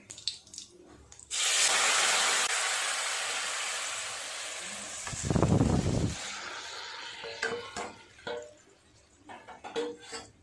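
Curry liquid for a hilsa fish dish is poured into a hot pan over fried nigella seeds, setting off a sudden loud hissing surge that slowly fades, followed by a few clatters and scrapes of the pan.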